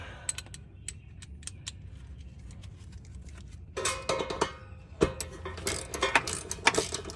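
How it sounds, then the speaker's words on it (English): A manual ratchet wrench clicks on bolts while a 2014 Subaru Forester drive shaft is replaced, first in slow separate ticks, then in faster, louder bursts of ratcheting and clinking metal, close up with no talking. "As you can see, I'm doing this all manually with manual wrenches."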